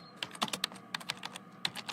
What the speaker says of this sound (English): the participants gather around a table to roll dice